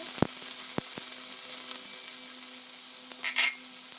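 Pork pieces go into hot, smoking cooking oil in a home kitchen, giving a soft, steady sizzle broken by a few sharp clicks and a brief bubbling spatter near the end, close and quiet.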